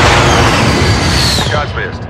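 Airstrike hitting in a Call of Duty match, a loud, close roar of blasts and heavy gunfire that fades after about a second and a half, with radio-style voices talking over it.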